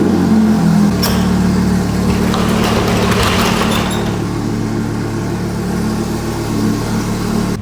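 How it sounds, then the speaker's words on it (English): Cold start of an all-wheel-drive Honda Civic engine: a loud, steady idle hum fills the whole stretch, with a brief rise in rough, revving noise early on before settling into an even drone. "Fire old girl up, get a cold start for the boys"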